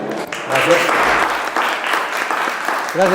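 An audience at a public science talk applauds a speaker being introduced, a full burst of close, busy clapping that holds steady for a few seconds, with a voice briefly cutting through near the start and again at the end.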